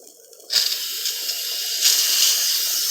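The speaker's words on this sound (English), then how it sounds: "Blow the pressure cooker." Pressure cooker venting steam on a home stove while dinner rice cooks, a steady broadband hiss that bursts on suddenly and holds loud and continuous, swelling slightly partway through.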